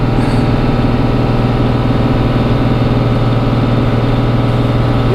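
A Cummins 12-valve diesel in a dually pickup, in second gear with a heavy-duty torque converter, drones steadily and loudly as it hauls a 32-foot fifth-wheel trailer up a steep climb, with a continuous low rumble and no voices.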